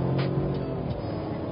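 The three-cylinder engine of a Chevrolet Cruze Monza RS 330T with a six-speed automatic drones loud and close under hard acceleration, a steady low throbbing hum with no talk.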